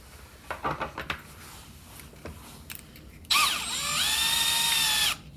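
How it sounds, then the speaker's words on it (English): A Milwaukee installation drill/driver whirs steadily for about two seconds driving pocket-hole screws after a few short knocks and clicks, loud and close, with rising pitch as it spins up. "I'm going to do some pocket holes here"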